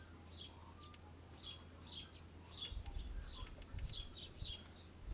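Birds chirping repeatedly in short bright bursts, fairly distant and soft, with a low rumbling hum underneath.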